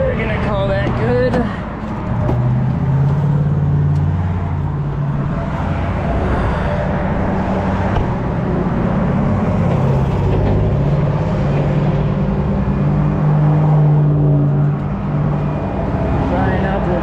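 Rush hour traffic streams past on a roadway, a continuous loud rumble of cars, trucks and buses close by, with someone talking over the passing vehicles.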